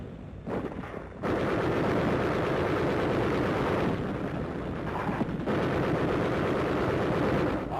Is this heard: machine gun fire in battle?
yes